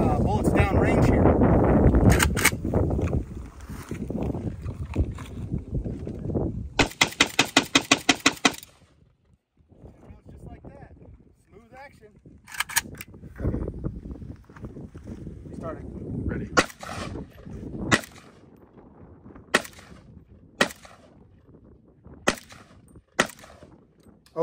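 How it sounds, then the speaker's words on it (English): A Zastava M70 AK-47 rifle fires in a fast burst of loud, sharp shots, followed by a pause and then a string of spaced single shots echoing outdoors. "now I'm gonna just rapid fire it to check out and see if there's any failures to feed or anything like that."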